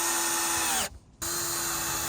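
A power drill whines steadily at high speed drilling into cement brick outdoors, cuts out briefly for a moment, then starts up again, close and loud.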